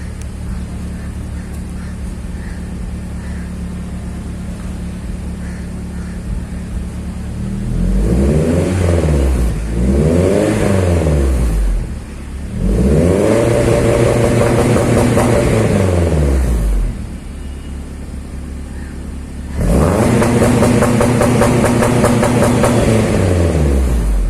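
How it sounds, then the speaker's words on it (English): A car engine fitted with a Varex muffler, its butterfly valve open, revs repeatedly in loud rising and falling bursts over a steady idle, with four main revving sequences heard close up. "Now I will rev with the butterfly open."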